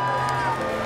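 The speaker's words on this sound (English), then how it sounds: "everybody, let's cheer him on while he's going" Steady crowd noise with cheering and a few whoops from an audience urging on 66-year-old strongman Odd Haugen as he lifts the Thomas Inch dumbbell, dense and continuous throughout, with some voices mixed in.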